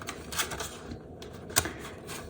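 A Mind's Eye tarot deck being shuffled by hand, giving a couple of quick crisp riffling bursts with sharp snapping card sounds, close up and with no voices.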